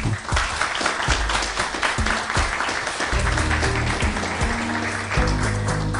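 Audience applause closing a corporate CEO lecture for university students in Korea, sustained dense clapping from a hall crowd throughout, with faint voices and some low tones mixed beneath.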